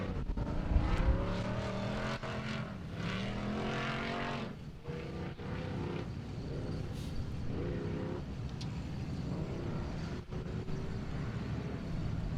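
Off-road race vehicles, 4800 and 4500 class, leave the start line of the 4WP Every Man Challenge, engines revving and rising in pitch, a steady loud roar that carries on without pause.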